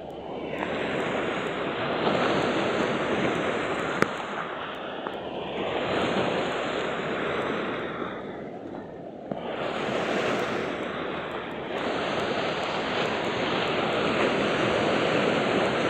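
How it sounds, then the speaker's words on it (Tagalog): Strong ocean waves crash and roll at a shoreline fishing spot, a loud continuous roar of surf that swells and eases in slow surges, mixed with wind. "malakas yung alon."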